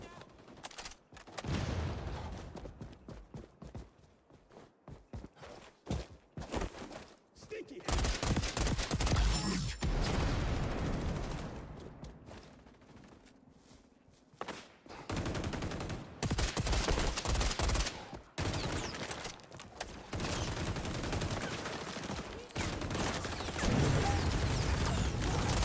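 Automatic gunfire from the video game XDefiant, heard as repeated bursts and rapid volleys with short pauses between them, loud and close.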